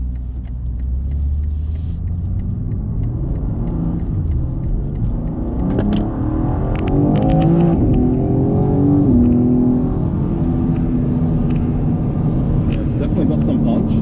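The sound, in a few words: BMW M2 2023 car driving and accelerating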